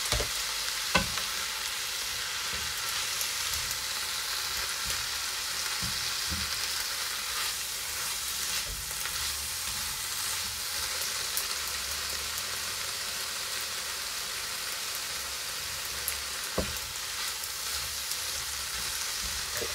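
Ginger and garlic fry in a pan for a stir-fried miso tofu and greens dish, giving a steady, close sizzle with occasional stirring clatter and faint pops, and no voices.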